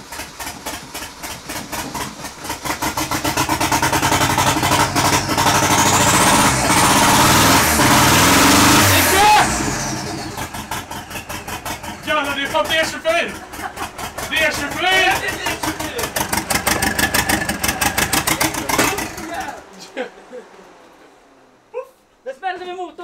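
A car engine with a newly fitted exhaust downpipe runs loud and close after repair, revving hard and rising in pitch before settling into rough, uneven bursts and cutting off, with voices talking over it.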